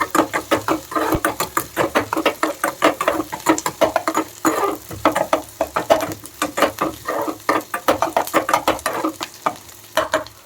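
Onions fry in a pan over a low flame while a utensil stirs them in quick, rhythmic scraping strokes that repeat steadily over a soft sizzle, close up and without voices.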